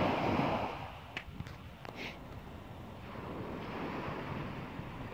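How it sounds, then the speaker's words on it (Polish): Sea waves washing onto a beach in Poland, a steady broad surf roar with soft swells and wind across the microphone, heard alone with a few brief faint clicks nearby. "Teraz się uspokoiło i można wsłuchać się w morze."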